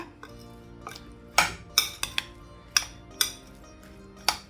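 A spoon clinks and scrapes in a bowl while mango pickle is mixed for an Onam sadhya: around eight sharp, irregular clinks over a quiet background, close and fairly loud.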